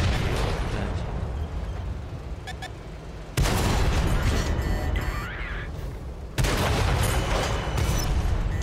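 Tank cannon fire from the AMX 50 120 in World of Tanks, two loud booming shots a few seconds apart, each followed by a rumbling tail over constant battle noise.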